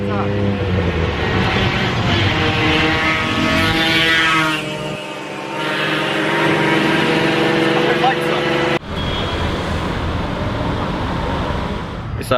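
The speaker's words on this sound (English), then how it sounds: "We're in a tuk-tuk." A tuk-tuk in Bangkok putters along with a loud, steady small-engine drone that rises and dips as it accelerates, heard close up from inside the ride, with people talking over it.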